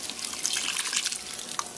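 More water poured onto green salsa in a cooking pan for chilaquiles verdes, a near, continuous splashing trickle with small drips, heard alone without speech.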